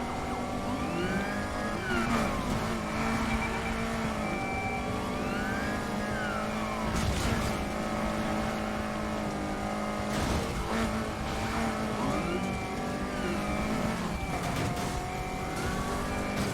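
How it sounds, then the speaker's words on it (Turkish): A Dodge Charger race car engine in Need for Speed Heat drones loudly and steadily, with pitch sweeping up and down through repeated revs and gear shifts, other racing cars audible alongside. "Dodge Charger geldi lan."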